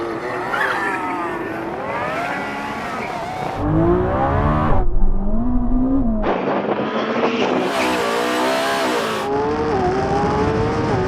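A Lamborghini Revuelto, Ferrari SF90 and Porsche 918 accelerate hard in a drag race, their loud engines climbing in pitch through repeated gear shifts, with a few rising and falling sweeps and no voices.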